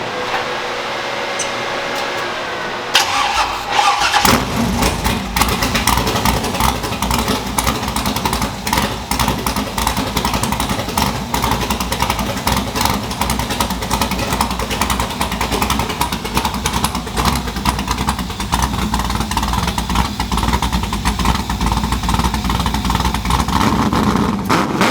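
Turbocharged Ford Mustang engine cranking and catching after a few seconds, then running loud and rough with a steady rumbling idle that carries on close by, no talking.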